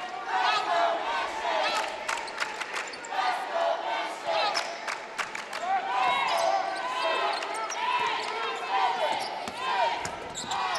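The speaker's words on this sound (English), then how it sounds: "The New Mission faithful were counting down the shot clock" A high-school basketball crowd at a boys' division final chants and yells in unison, counting down the shot clock, loud and sustained with cheering, sneaker squeaks and a bouncing ball.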